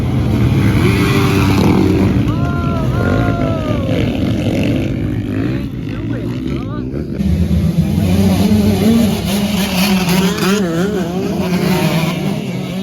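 Motocross dirt bikes, including two-strokes and a Kawasaki, racing at Seneca Highlands, engines revving and whining up and down as they pass, steady and loud throughout, with a commentator talking over the racing.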